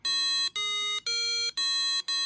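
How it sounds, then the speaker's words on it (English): A homemade real-time smart alarm clock going off, sounding a loud, close, bright electronic tone in four-plus even pulses of about half a second each, the pitch shifting slightly between pulses like a simple melody. "you can hear that it plays out a melody or an alarm"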